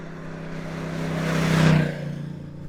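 A close Honda NT1100 parallel-twin motorcycle engine revs up, rising in pitch and loudness to a peak, then drops back to a steady idle hum.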